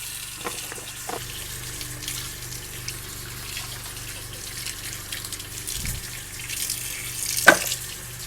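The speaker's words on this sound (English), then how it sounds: "let's wash these green beans" Green beans being rinsed under a running kitchen tap, a steady wash of water into the sink with soft splashes and a few clinks and handling knocks, close by with no talking.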